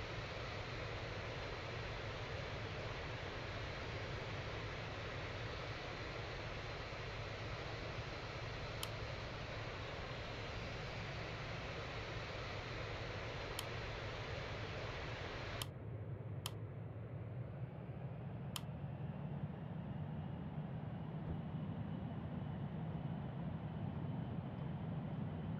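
Aircraft engines roar steadily on a takeoff roll at Hamburg-Finkenwerder airport in the flight game Real Flight Simulator. The broad engine noise holds constant, with a few faint ticks, and shifts abruptly to a darker, muffled rumble partway through.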